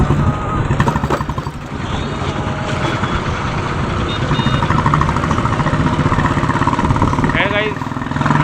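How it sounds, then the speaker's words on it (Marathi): Busy road traffic near Mantha Chowki in Jalna, with motorcycle and truck engines idling and rumbling close by, continuous and loud, horns and occasional beeps mixed in while people talk nearby. "अँड इथलचा हा नेहमीचा ट्रॅफिक."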